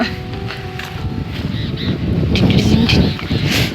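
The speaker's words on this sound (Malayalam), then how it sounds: "കാറ്റടിക്കുന്നുണ്ട്" Wind gusts buffet the microphone with a low, rumbling roar that swells and fades.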